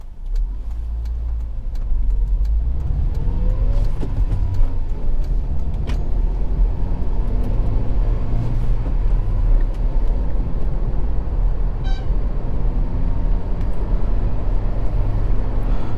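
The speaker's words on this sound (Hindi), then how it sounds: "सबसे पहले मैं आपको इसका इंजन नोट सुना देता हूँ." Hyundai Grand i10 Asta engine while driving, a steady close engine hum with cabin and road noise that lifts in level after a couple of seconds as the car pulls away.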